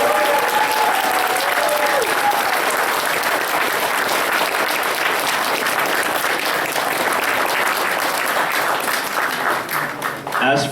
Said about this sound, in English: I want to hear a big round of applause for them